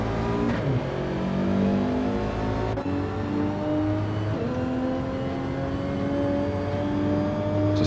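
Race car engines in Gran Turismo 7 during a DTM race, loud continuous engine drone with repeated rising revs and sharp gear-change dips, no talking over it.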